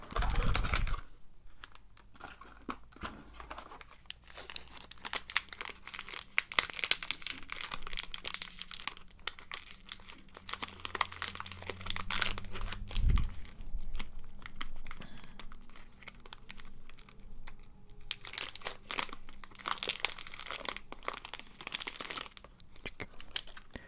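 A crinkly plastic freshness sachet of tartlets is torn open and handled close up, with dense crackling and crumpling throughout, bursts of rustling and a few sharper tears, recorded quietly in an intimate setting.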